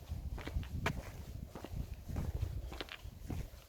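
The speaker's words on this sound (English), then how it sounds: "all I can really hear is my footsteps" Footsteps crunch at a steady walking pace, close and fairly quiet, with faint wind in the background.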